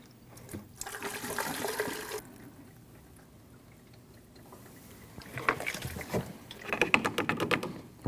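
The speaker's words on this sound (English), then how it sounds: "now you can transfer your washer solvent from your old washer reservoir to your new one" Washer solvent poured through a funnel into a new windshield washer reservoir on a 2013-2019 Ford Escape, giving two bursts of splashing, gurgling liquid separated by a quieter pause, fairly close.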